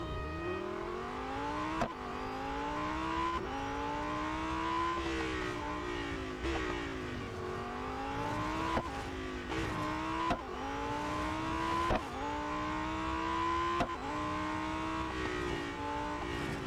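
A Lamborghini Huracan STO races through an autocross event in Real Racing 3, its engine note climbing and dropping through repeated gear shifts, loud and continuous with no talk.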